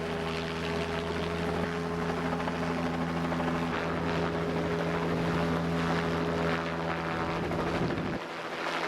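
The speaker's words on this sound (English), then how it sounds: "we conducted heli lifting operations straight off the stern of the ship" A helicopter's rotor thrum and engine drone hold steady and loud while it lifts marine debris off the stern of a large ship during a coastal cleanup, the sound easing slightly near the end.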